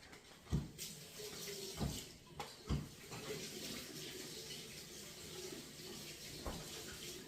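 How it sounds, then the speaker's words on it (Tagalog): Hands being washed under a running kitchen tap while preparing a quinoa salad, a steady soft stream of water with a few brief louder clatters and splashes, no talking. "Teka lang, maghuhugas ako ng kamay."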